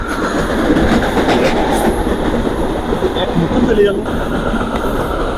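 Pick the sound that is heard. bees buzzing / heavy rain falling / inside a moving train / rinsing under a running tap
inside a moving train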